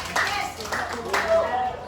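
A small class audience claps for a dance demonstrator, light scattered hand claps mixed with loose chatter and voices close by.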